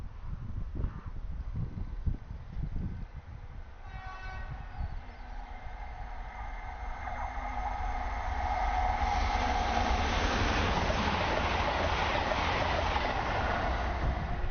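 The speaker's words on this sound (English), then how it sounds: "A Nova 2, number 802207, passes on an Edinburgh service." A Nova 2 passenger train, number 802207, rumbles past a footpath level crossing, building from a low hum to a loud, sustained roar with bright metallic squeal, close and steady until the end.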